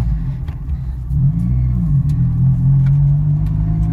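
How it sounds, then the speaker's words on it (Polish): 1980 Mitsubishi Colt A150 driving, a steady loud engine rumble that rises slightly as it pulls along, with a low droning tone close to the listener. "Samochód jedzie, hamuje, zmienia biegi, przyspiesza."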